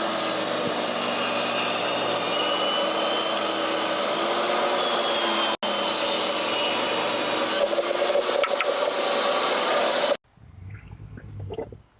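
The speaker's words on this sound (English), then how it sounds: "Let's bust out the table saw and make some" A table saw rips 3-inch slats from 3/4 inch wood for a van pull-out bed, giving a loud, steady whine that drops out once, resumes, then cuts off to a quiet room near the end.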